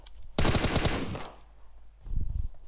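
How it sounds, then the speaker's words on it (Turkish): Automatic gunfire in the mobile battle royale game PUBG Mobile, a rapid burst of machine-gun shots followed after a pause by a shorter, duller volley. "bunu da buradan birileri vuruyordu"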